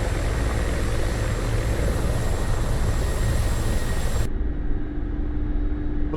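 An Mi-24 Hind helicopter flies in the DCS combat simulator with a loud, steady rotor and engine roar. Near the end the roar thins and becomes more muffled, and a low hum continues.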